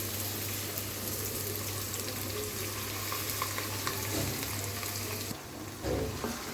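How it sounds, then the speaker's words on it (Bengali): Rice frying with browned onions in a pot for pulao, a steady close sizzle with spoon stirring and scraping throughout, ending in a few louder clatters, with no talking. "এখন আস্তে আস্তে সময় নিয়ে চালগুলোকে ভেজে নেব একটু প্রথমে।"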